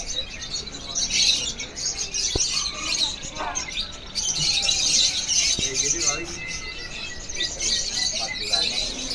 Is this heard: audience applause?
no